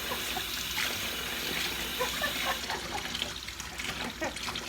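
Water from a tap runs into a sink during a cat bath, a faint, steady trickle and splash with a little background movement.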